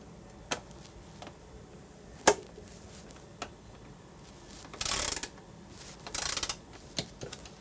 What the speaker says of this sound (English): tighten all 4 of these bolts up to torque spec, which is 25 Newton meters, which is 18 foot-pounds.